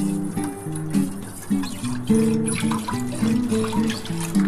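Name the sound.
water poured into a wok for boiling lentils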